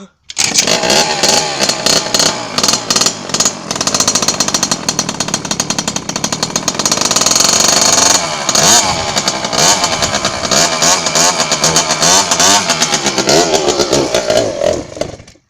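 A cold motocross bike engine is being warmed up. It sounds as a loud, continuous raspy two-stroke-style drone with repeated sharp revs and throttle blips, close to the mic, for the whole stretch.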